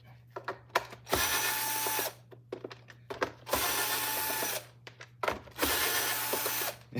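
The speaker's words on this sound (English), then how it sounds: "we're gonna take all of these screws here out" A power screwdriver whirs in three sustained bursts, backing screws out of a Monroe vacuum motor housing, each run about a second long, with clicks and handling noises in the pauses under a steady low hum.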